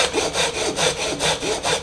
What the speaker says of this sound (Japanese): 磁石のところにノコギリを当てて、ここ隙間がないようにピタッと当てながら切っていってやります